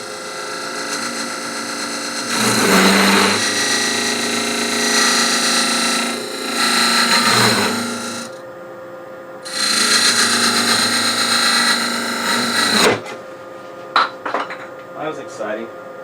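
A wood lathe turns a box of contrasting woods while a tool cuts into it, giving scraping, rasping bursts over a steady spinning hum, with a few sharp knocks and clatters once the cutting stops.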